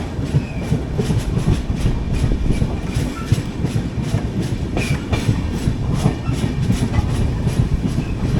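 The 22114 Kochuveli–Mumbai LTT Superfast Express runs near Kundapura station with a loud, close, steady rumble and rhythmic clickety-clack of wheels on the rails.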